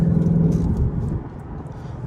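A Ford Mustang's engine idles with a steady low rumble and a smooth, even hum, heard up close with no talk over it.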